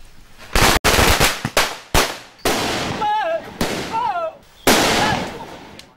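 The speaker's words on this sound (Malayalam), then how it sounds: "അണികൾ പടക്കം പൊട്ടിച്ച് സന്തോഷം പ്രകടിപ്പിക്കുന്നു" Firecrackers burst in a rapid series of loud, sharp bangs as party supporters celebrate Thomas Chandy's swearing-in as minister on a street in Kuttanad, Kerala, with shouting and whistling voices between the blasts.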